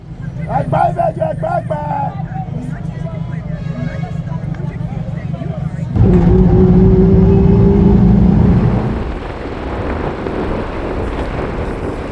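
Traffic jam in Lagos, Nigeria, with a steady low rumble of idling car engines and crowd babble, growing louder midway as a nearby engine revs, with wind buffeting the microphone.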